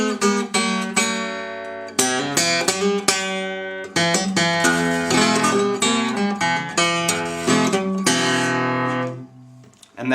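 An acoustic guitar plays the intro of a blues song, busy fingerpicked blues with a thumping bass and sharp treble notes, close and loud, pausing briefly near the end.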